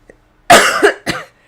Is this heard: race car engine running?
no